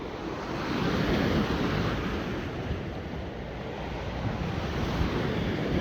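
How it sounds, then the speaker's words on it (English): Sea waves roll and break on Blackpool beach in a continuous, loud wash of surf, with heavy wind buffeting the microphone throughout. "You watch now, these waves will get me."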